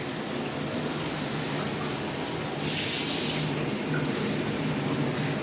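Steady running water from a shower head in a home bathroom, a continuous broadband hiss that holds even throughout with no talking.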